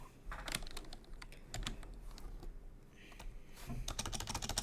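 Typing on a computer keyboard, quick irregular bursts of clicking keys with short pauses between runs, close and fairly quiet.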